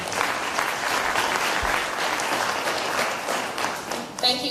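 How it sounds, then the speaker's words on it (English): Audience applause for Shante Brown, a candidate for District Judge, Bessemer Cutoff Place 11, at an Alabama political forum: dense, steady clapping from a crowd that holds for several seconds, then tapers off near the end. "Give her a round of applause, please."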